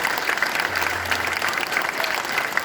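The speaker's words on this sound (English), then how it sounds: "let's start it off with a big round of applause to welcome them along" An audience at a tiger show claps in steady, sustained applause, a dense wash of many hands throughout, with a faint voice underneath.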